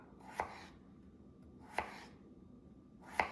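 A knife slicing potatoes thinly on a board: three sharp, evenly spaced cuts, close and clear over quiet background, with no talk.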